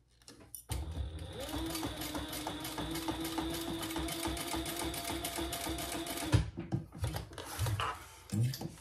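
A sewing machine bastes the ends of a zipper gusset on a crossbody bag, running continuously for several seconds at a steady rapid stitch, then stopping into softer handling noises.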